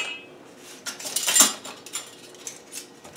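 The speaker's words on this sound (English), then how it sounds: "I got a bunch of rings on a bungee cord here." Metal canning jar rings hanging on a bungee cord clink and jingle together in a brief cluster of light metallic taps, peaking once and then trailing off into scattered clicks nearby.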